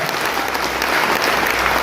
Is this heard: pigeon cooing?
no